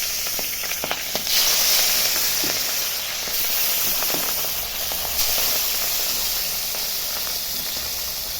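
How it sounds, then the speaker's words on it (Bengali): Pabda fish fries in white oil in a wok, giving a loud steady hiss of sizzling with occasional sharp pops and spits, close and continuous with no voices. "মাছটা ভেজে নিচ্ছি"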